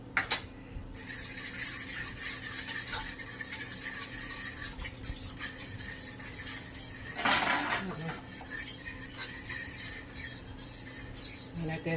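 A utensil blends egg yolk with other ingredients in a pot, giving continuous close scraping and clinking against the metal that swells briefly partway through.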